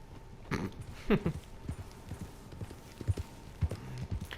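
Horse hooves clip-clop in Red Dead Redemption 2, a steady trotting rhythm of soft, fairly faint hoof strikes, with a few brief voice sounds in between.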